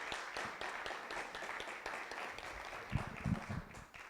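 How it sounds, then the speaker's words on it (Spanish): A live audience at a World Radio Day debate applauds to welcome a radio director, steady mid-level clapping filling the whole stretch with a few louder thumps near the end. "Por favor, un aplauso fuerte para Adriana."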